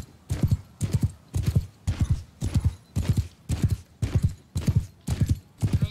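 Horse hooves clip-clopping in the medieval combat game Mount and Blade II Bannerlord, a steady galloping rhythm of heavy paired thuds repeating about twice a second, loud and close with no talk over them.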